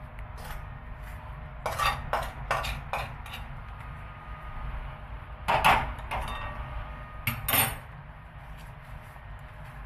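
A spatula clatters and scrapes in a pan as a makhana and peanut sweet mixture with ghee is stirred, giving irregular nearby knocks and scrapes in bursts over a steady low background hum.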